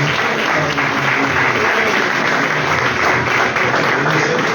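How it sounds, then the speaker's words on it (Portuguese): A Pentecostal church congregation in Mogi Guaçu applauds, a steady, dense wash of clapping from many hands that holds evenly for the whole stretch. "Dá uma linda salva de palmas para Jesus"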